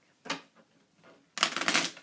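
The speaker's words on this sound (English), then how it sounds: "I'm not going to spend a whole lot of time shuffling this one or dealing it" A deck of playing cards being shuffled for a trick-taking card game, heard as two bursts of riffling: a short one early, then a longer, louder flurry of rapid papery flutter near the end, with no speech.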